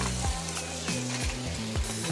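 Pork sizzling steadily on a hot grill pan at a street food market in Phitsanulok, Thailand, with a few soft scraping and stirring knocks scattered through.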